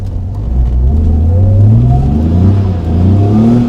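A BMW E46 Compact engine revs up loudly and close, its pitch climbing in several rising sweeps with a steady roar and no talking.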